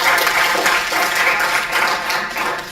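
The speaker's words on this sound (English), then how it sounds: "I think it's a big round of clap for it." A lecture audience at a guest talk on the print business gives a short, even burst of clapping that lasts about three seconds. No voices come through over it.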